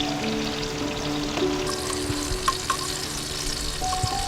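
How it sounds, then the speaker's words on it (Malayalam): Onions and garlic fry in a pan with a steady hiss and crackle, and a utensil stirs them now and then with a few light scraping taps. The sound is close and continuous, with no talking. "ഇടയ്ക്കിടയ്ക്കൊന്ന് ചുറ്റിച്ച് കൊടുക്കാം"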